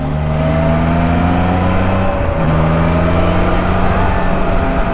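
A Triumph Trident 660 motorcycle ridden through snow gives off a loud, steady engine drone with rich harmonics that holds for the whole stretch without pause.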